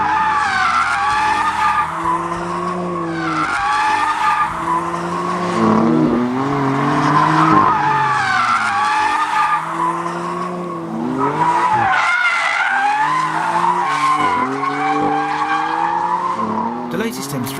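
Twin-turbo 425 horsepower BMW M3 driven hard, engine notes repeatedly rising and dropping through gears as tyres squeal and skid, loud and close over the whole stretch.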